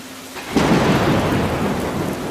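Heavy rain pours steadily with a deep rolling thunder rumble that swells in about half a second in and holds loud and close to the end, with no voices.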